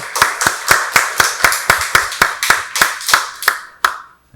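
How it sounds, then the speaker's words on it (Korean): A church congregation at a Sunday worship service claps in unison, a steady rhythm of about fifteen sharp, evenly spaced claps that end with a final clap and fade, with no talking. "박수로 하나님께 영광 돌리겠습니다."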